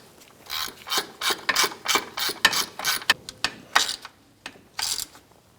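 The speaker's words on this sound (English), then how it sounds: "Go ahead and snug this bolt down here." A ratchet snugs down an exhaust manifold bolt on a 2004-2008 Acura, its pawl clicking in a quick run of rhythmic strokes followed by a few slower turns, close up and with no voices.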